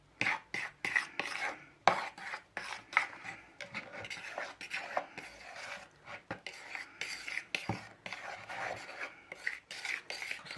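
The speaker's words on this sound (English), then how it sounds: "mix it in properly." Fragrance oil is stirred into ResinCrete, close and uneven scraping and rasping strokes in irregular bursts as the thick mix is worked round its container.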